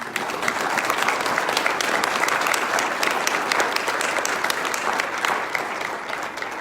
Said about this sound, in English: can we get a round of applause for those of you?